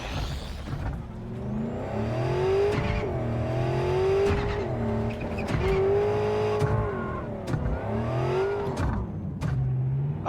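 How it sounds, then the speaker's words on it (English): A combustion-engine car drives in a futuristic video game, its engine note rising and falling in smooth revving sweeps, fairly close and steady, with a brief higher whine near the start and no talk over it. "Why are they using combustion engines?"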